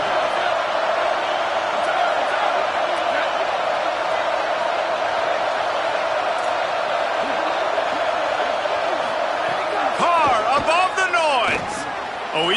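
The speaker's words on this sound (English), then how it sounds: "Listen to this crowd just shaking the girders of this place trying to help their defense." Stadium crowd roars in an NCAA college football video game, a loud, sustained wall of cheering that holds steady throughout, with brief sharper bursts near the end.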